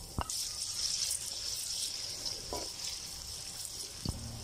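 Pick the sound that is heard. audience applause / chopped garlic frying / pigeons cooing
chopped garlic frying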